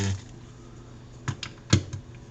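Sports trading cards shuffled by hand after emptying a box, soft riffling and a few sharp snapping clicks close to the microphone, with no talk.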